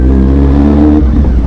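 A superbike engine revs hard and close, a loud deep growl holding steady before the pitch drops and trails off into rougher idling.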